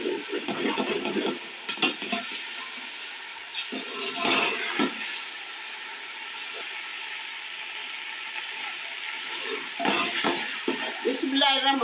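Spices and chicken pulao sizzle and fry in a pot on a home stove, a steady hiss punctuated by scraping stirring bursts near the start, middle and end.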